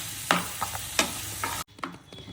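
A spoon scrapes and stirs vegetables with chopped tomato in a frying pan, a few distinct scraping strokes over a soft sizzle, close and quiet.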